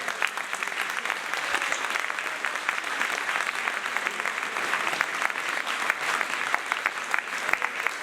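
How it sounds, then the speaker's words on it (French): A festival audience at a medal ceremony applauds René with steady, dense clapping that holds at an even level for the whole stretch, a broad wash of many hands with no talk over it. "On peut applaudir René."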